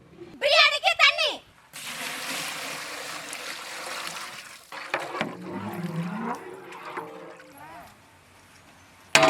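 Water poured into a pot for village-style chicken chukka biryani, a broad splashing pour running for several seconds after a brief burst of a voice, then fading into softer trickles and clatter.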